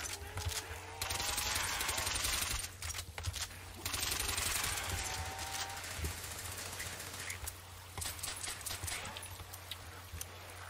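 Gunfire in the Call of Duty: World at War Zombies game on the Seelow map, dense bursts of rapid shots under a steady hum, with a lull near the middle before firing resumes, loud and continuous.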